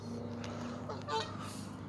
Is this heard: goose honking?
yes